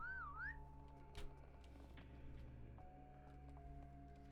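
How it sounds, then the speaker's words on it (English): A character in the video game Escape from Tarkov gives a clear, rising-and-falling whistle at the start, followed by game ambience with hums, clicks and a sharp knock in the middle. "And we give it a big old whistle."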